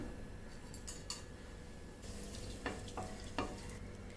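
Low steady sizzle of hot oil with cinnamon, cloves, cardamom and stone flower frying for vegetable kurma, broken by a few sharp clinks and scrapes of a spoon stirring the pan.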